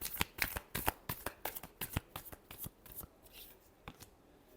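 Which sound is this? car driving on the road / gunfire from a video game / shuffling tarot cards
shuffling tarot cards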